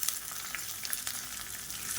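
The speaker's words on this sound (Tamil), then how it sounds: "இந்த வரமிளகாய் நல்லா வறுபடணும்." A tempering of cumin, urad dal, curry leaves, ginger, green chilli and dried red chillies fries in hot oil, giving a close, steady sizzle with scattered small pops and crackles.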